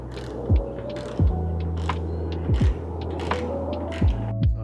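A ratchet working the bolts that hold on a truck bed, heard as clicking mechanical bursts repeated at uneven intervals over a low steady hum, close by and with no talking.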